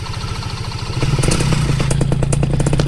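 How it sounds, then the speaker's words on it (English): A paramotor engine starts up, going from a fast low chugging to a louder, rougher rhythmic roar with clattering pulses, close and dominant. "I'm gonna turn on the motor just to get my glasses to clear up."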